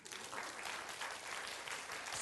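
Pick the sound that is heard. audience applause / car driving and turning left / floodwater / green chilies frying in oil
audience applause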